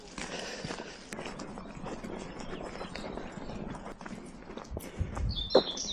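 Cows walk past on a hiking trail, their hooves thudding and shuffling on the ground in an irregular patter, moderately close, with faint bird chirps and a louder scuffle toward the end.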